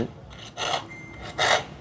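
Hand sawing wood in a rural outdoor setting, two distinct rasping strokes about a second apart, close and moderately loud, with quieter background between them.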